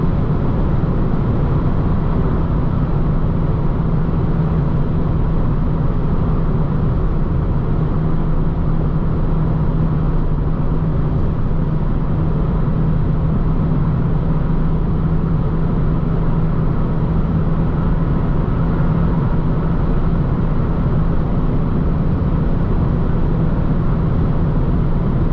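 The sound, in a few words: Peugeot RCZ 1.6 16V car driving at 207 km/h top speed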